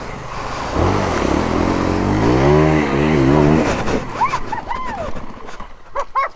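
A KTM Freeride 350 dirt bike engine revs hard in low gear with the clutch slipping on a trail climb, a loud rising and falling drone that later breaks into sharper bursts.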